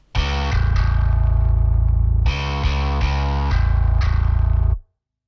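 Bass guitar played through an Ampeg SVT amp into a studio speaker cabinet, miked with a 421, sounding as loud, sustained distorted notes in two phrases with a sharp cutoff at the end, no talking.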